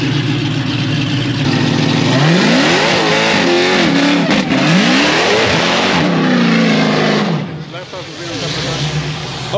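A Dodge Demon drag car on a record pass, its engine roaring loud and close and revving up hard through rising gear pulls before easing off, with crowd chatter underneath.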